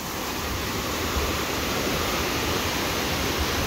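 A river in flood roars as a steady, dense wash of rushing water, loud and unbroken from start to finish with no voices over it.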